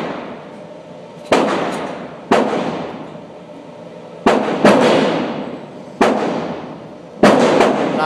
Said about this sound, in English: Some of your first shots fired.